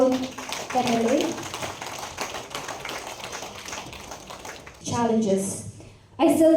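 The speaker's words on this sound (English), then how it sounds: "Please give her a huge round of applause" Applause from an audience at a ceremony in Meghalaya honouring a Legislative Assembly member; a dense, steady patter of clapping that sustains for several seconds, with voices speaking before and after it.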